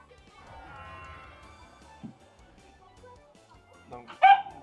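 A quiet room with faint murmuring, then one sudden short yelp or bark near the end.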